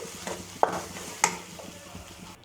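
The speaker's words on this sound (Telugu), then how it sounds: "మనం గ్రైండ్ చేసి పెట్టుకున్న పచ్చడిని తాలింపులోకి యాడ్ చేసాం కదండి ఇలా కలుపుకుందాం" Ground ivy gourd and karonda chutney being stirred into a hot tempering in a pan: two sharp spoon scrapes over a low sizzle, close up, fading toward quiet, with no voices.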